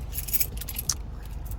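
Car keys for a 2017 Ford Fusion SE EcoBoost with a push-to-start remote fob, jangling close up in a quick run of light metallic clinks and rattles, with one sharper clink near the end.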